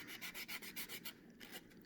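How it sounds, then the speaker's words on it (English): Fine, rhythmic sanding strokes rub along the edge of a giant pumpkin seed, about eight quick back-and-forth passes, close and soft with no talk. "We're just going to sand the edges, just like you're sanding your fingernail."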